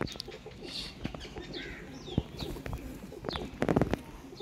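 Ferozpuri breeder pigeons coo in a loft, a few soft low calls mixed with wing flutters and scattered bird chirps at moderate distance, no talking.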